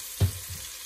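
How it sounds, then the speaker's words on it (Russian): Meat and vegetables sizzle and fry in a pan, with a brief soft knock of stirring near the start, close and steady. "Обжарили наше мяско, наши овощи."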